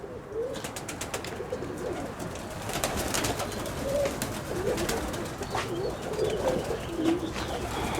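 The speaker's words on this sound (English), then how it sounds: "Another loft over here, more pigeons." A chorus of pigeons coos steadily from close by inside a loft in Florida, low warbling calls overlapping in an enclosed space with faint chirps and rustling.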